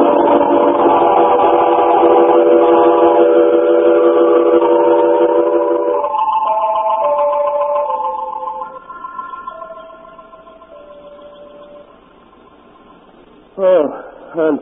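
A train pulls out in an old-time radio drama effect: a loud, sustained whistle-like chord holds, then shifts pitch and fades into a quieter rumble, ending with a brief sharp burst near the close.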